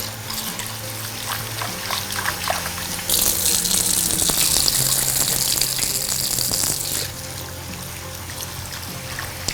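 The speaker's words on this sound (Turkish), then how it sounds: "iyice yıkıyorum. Bir iki üç defa sudan geçiriyorum" Running tap water gushes strongly over cucumbers being washed for pickles in a kitchen sink, a loud continuous splashing stream that swells midway and then eases off, with no talking.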